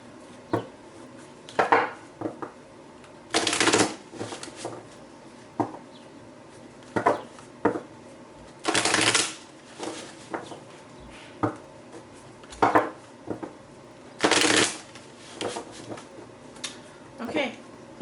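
Tarot cards being shuffled by hand, coming in short crisp riffling bursts separated by pauses, with some quieter handling clicks and rustles in between, close and fairly prominent.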